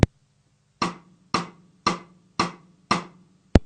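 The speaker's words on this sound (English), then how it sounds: "replace this backbeat here with the snare with the cross stick" Cross-stick strokes on a snare drum, five evenly spaced woody clicks with short ringing tails in a steady backbeat rhythm, close and clear, framed by two sharper hits at the start and end.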